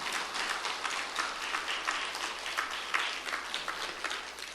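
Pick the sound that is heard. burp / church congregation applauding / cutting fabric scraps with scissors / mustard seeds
church congregation applauding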